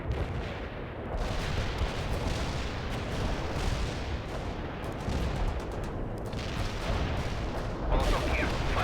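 Heavy artillery strike in the World in Conflict game pounds on as a continuous, dense barrage of booming blasts and rumbling impacts, loud and sustained throughout with no gaps.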